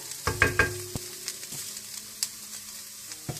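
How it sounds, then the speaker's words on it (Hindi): Chicken pieces sizzle and fry in a pan for spring roll filling, with several sharp stirring or scraping clatters over a steady hiss, close and moderately loud, no voices. "चिकन को मैंने अच्छी तरह से भून लिया।"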